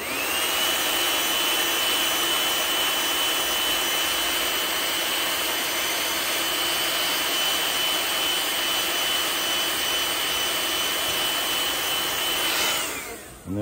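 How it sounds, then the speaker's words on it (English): A heat gun blows steadily to set paint on a custom fishing lure, a loud continuous whooshing roar with a thin whine that holds throughout and cuts off abruptly at the end. "So we'll heat set that really quick"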